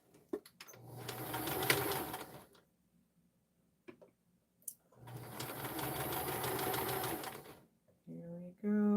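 A sewing machine stitches a muslin dress form cover in two bursts of rapid whirring, separated by quiet handling clicks, with a short spoken phrase at the end.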